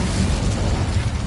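An Incendio fire spell cast in the Hogwarts Legacy video game, a loud, continuous roaring burst of flame with deep rumble and broad hiss that holds steady for over a second.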